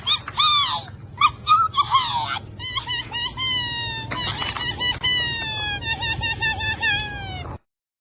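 Cartoon puppies in a Sonic the Hedgehog animation: rapid, squeaky, high-pitched yips and whines in quick bursts, then a run of longer wavering cries that cut off suddenly.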